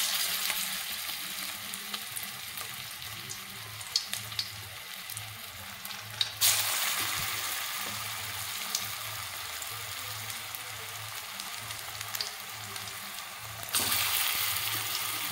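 Drumstick flower fritters, a vegetarian Bengali bora, frying in hot oil with a steady, fairly loud sizzle and crackle, brief clatter, and the sizzle surging louder twice as more batter goes in.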